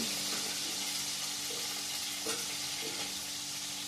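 Steady frying sizzle in a pan while dosa is being made for a Shivaratri festival meal, a dense continuous hiss with a few soft clinks and scrapes, no voices.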